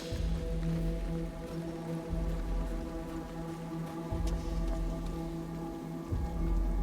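Heavy storm rain pours steadily across a surface in the video game Scars Above, a loud, dense, unbroken wash with occasional deeper rumbling swells.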